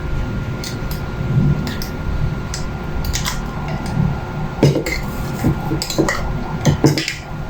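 A spoon stirring oatmeal pudding with banana and mango in a bowl, giving close, irregular clinks and soft scrapes against the dish with a low background hum.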